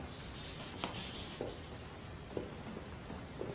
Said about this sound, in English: you can even hear the birds chirping outside.